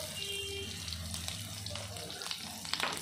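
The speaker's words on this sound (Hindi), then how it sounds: "इसे थोड़ा सा सौटे करिए।" Garlic, onion and green chillies sautéing in a pan, a steady close sizzle and hiss of frying with faint clinks near the end.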